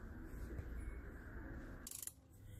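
Crankshaft pulley being turned by hand on a 2006 Acura TL engine during timing belt and water pump work: faint close mechanical ratcheting and grinding clicks, with a brief sharper metallic scrape near the end.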